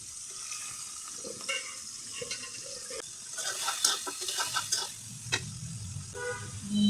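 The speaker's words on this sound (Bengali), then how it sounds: "প্রথমে আমি পরিমাণ মতো তেল দিয়ে দিলাম, কাঁচামরিচ আর পেঁয়াজ কুচি দেব" Green chilies and chopped onion fry in hot oil in a pan, crackling and sizzling up close while a spoon stirs and scrapes at irregular intervals.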